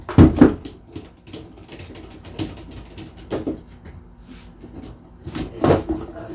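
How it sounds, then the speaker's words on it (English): Big woodworking clamps are loosened from a freshly glued cutting board, with close, uneven clunks, ratcheting clicks and metallic knocks at irregular intervals. "we're going to start loosening up the big clamps."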